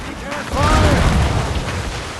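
Ship cannons fire in Assassin's Creed Rogue, a deep booming blast swelling up about half a second in and rumbling on. Shouting voices sit underneath.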